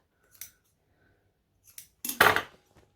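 Scissors snipping through fabric during a sewing project: a light snip, a short pause, then a louder burst of quick, close cuts, with no talk.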